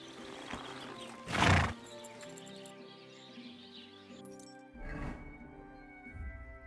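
A horse in the video game Kingdom Come Deliverance 2 gives two loud snorting whinnies several seconds apart, with soft hoofbeats, birdsong and background game ambience between them.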